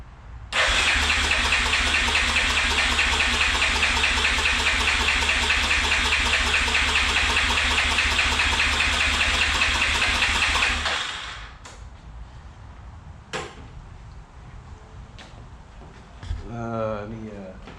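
A Yamaha Grizzly 350 ATV engine cranks loudly and steadily at wide open throttle for about ten seconds during a compression test, then stops, leaving faint clicks and handling noise.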